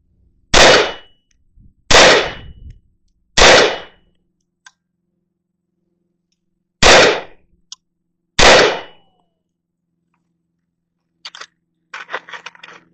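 Five loud, sharp rifle shots ring out one by one at a shooting range, unevenly spaced over several seconds, followed by faint clicks and handling noises of the gun.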